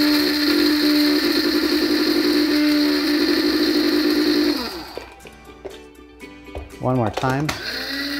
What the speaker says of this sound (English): let's add the spice to the coffee grinder, along with our other ingredients, the coffee, ground cumin, pepper, and the garlic salt. And we're just gonna blend this